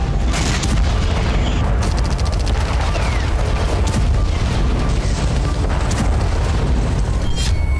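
Continuous rumbling blasts and booms from a wave of about 40 drone attacks in Crimea, dense and loud throughout, with crackling bursts layered over a heavy low roar.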